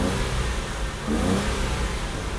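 A Mercedes W123 280TE petrol engine, just repaired after a faulty fuel distributor, revs on test with a steady, loud rise and fall of throttle heard close by, with no voices.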